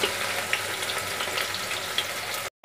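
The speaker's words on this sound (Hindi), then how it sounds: "ऑयल हमारा अच्छे से गर्म हो गया है। तो हम इसमें डाल देंगे प्याज" Onions hit hot oil in a pressure cooker while mutton korma is being prepared, producing a steady, close, hissing sizzle with a few brief crackles. It cuts off abruptly at the end, with no talking.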